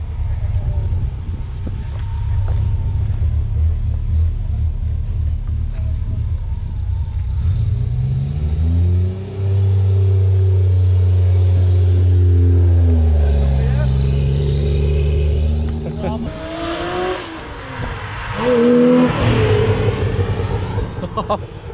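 A Ferrari engine being warmed up and revved at a tuning shop, the loud, steady roar rising and falling through several pitch sweeps over about twenty seconds, with people talking and shouting over it.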